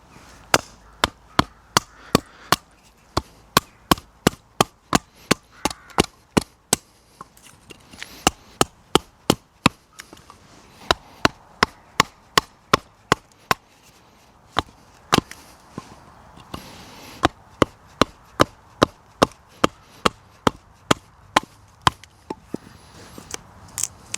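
A wooden mallet or stick strikes an ash branch along a saw cut outdoors, giving a long run of sharp, close woody knocks at a steady, fairly quick pace with only brief pauses.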